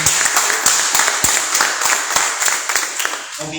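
A church congregation claps together at a workers' gathering, a dense, steady patter of many hands with a few sharper individual claps, moderately loud and close, fading near the end.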